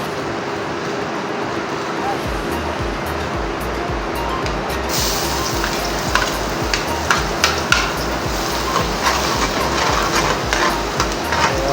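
Garlic and onion sauté in a pan, a steady close sizzle with stirring scrapes and clinks that grows brighter partway through, while a person talks over it.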